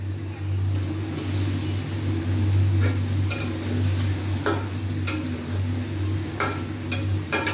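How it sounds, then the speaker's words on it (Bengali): Hilsa fish is sautéed with potatoes for a curry, making a low sizzle under a steady hum, with scattered spatula scrapes and clinks against the pan and no talking. "আমি এখন ইলিশ মাছটা সুন্দরভাবে কষিয়ে নেব।"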